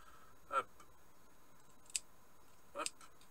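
Small scissors trim a cotton wick on a GeekVape Tsunami 24 RDA vape atomizer, giving three quick, faint snips against a quiet background hiss.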